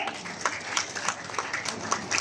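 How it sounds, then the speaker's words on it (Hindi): Audience applause at an official ministry ceremony, likely following a lamp-lighting inauguration: a steady patter of many hands clapping at moderate distance, fairly soft and continuous throughout. "तालियां आपकी तरफ से जरूर हो।"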